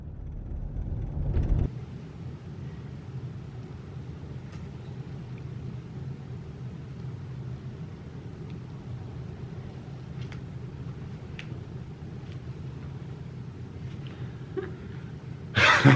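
A car pulling out of a driveway and driving off, with a low steady engine rumble and road noise throughout and a louder thump at the start and end.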